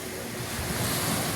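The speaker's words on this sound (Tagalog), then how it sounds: "narito muna tayo sa tabing dagat" Surf rolls onto a seashore as a broad, steady wash of noise, moderately quiet and continuous, with some wind mixed in and no voices.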